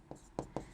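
Three quick marker strokes on a board during a biology lecture, close and crisp with short gaps between them, in an otherwise quiet room.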